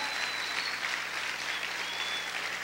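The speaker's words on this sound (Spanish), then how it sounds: "Vamos a aplaudir fuerte a nuestro Dios y a nuestro Señor." Brief burst of strong, steady applause from a church congregation, dense clapping throughout with no voices.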